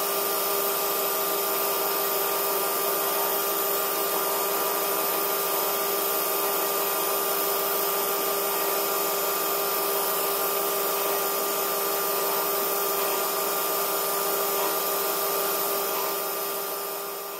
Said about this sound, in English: The chuck's mounted back on the lathe. I'm now going to clean the outside diameter up.